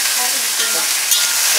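Garlic frying in a pan over high heat, a loud, close, continuous hiss of sizzling with a faint tap partway through.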